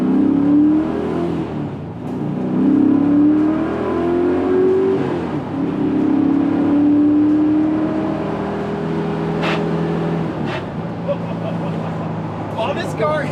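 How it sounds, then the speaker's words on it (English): A 1969 Camaro RS/SS with an LS427 V8 accelerates, its engine note rising and falling through several pulls, fairly loud, with people talking over it. "this does have an LS427 underneath the hood, Kirk."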